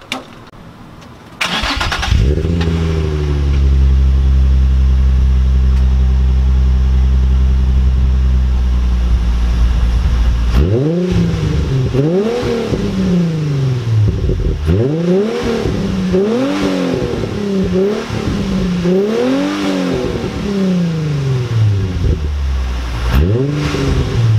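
A Nissan 350Z engine with a newly installed cold air intake cranks and catches, idles steadily, then revs up and down repeatedly in loud, close surges.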